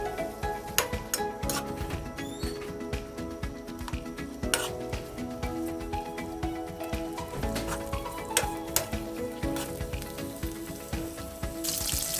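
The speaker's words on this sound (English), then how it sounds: "I'm frying my onions till fragrant." Onions sizzle and crackle steadily in hot oil, with occasional clinks and scrapes of a utensil stirring the pan nearby.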